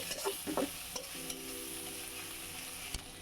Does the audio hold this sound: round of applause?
no